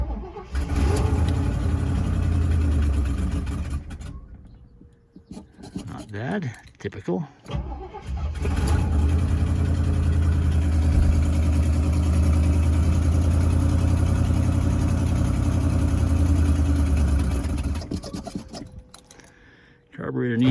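A 1978 Cadillac Eldorado's 425 V8 with a Quadrajet carburetor needing work rumbles loud and close, idling and revving, dropping out briefly midway before picking up again; someone speaks briefly over it.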